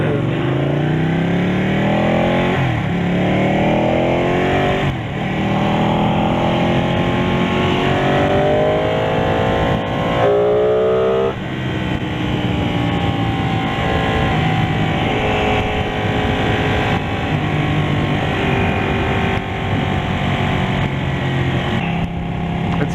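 A Ducati Panigale 1299 motorcycle engine revs hard at high RPM, a loud continuous roar with rising and falling pitch sweeps as it accelerates, close up and without talk.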